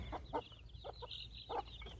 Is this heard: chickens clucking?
yes